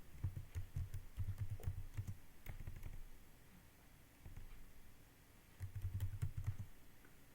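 Quiet computer keyboard typing in two short bursts of rapid soft key clicks separated by a pause of a few seconds, close and faint.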